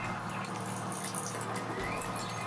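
Water at low pressure filling the fresh water tank of a 2024 GeoPro 20BHS travel trailer: a steady, close, hissing rush that runs without a break, with no voices over it.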